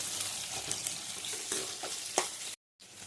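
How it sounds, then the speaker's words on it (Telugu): Onions and green chilies frying in a pan, a close, dense sizzle with light stirring scrapes, briefly cut off near the end before resuming. "ఆనియన్స్, పచ్చిమిర్చి బ్రౌన్ కలర్లోకి రావాలండి"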